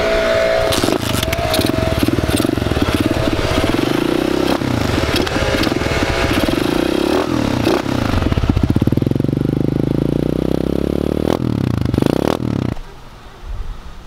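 A Polini 110 pit bike engine runs close and loud with a rough, crackling two-wheel rattle. The revs climb and fall in bursts, and the engine drops to idle near the end.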